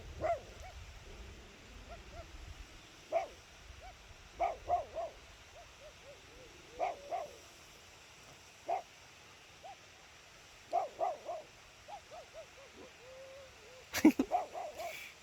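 A person standing across a forest trail barks like a dog, the human voice imitating a dog with scattered short yaps and woofs at mid distance, faint and spaced out, with a louder burst near the end.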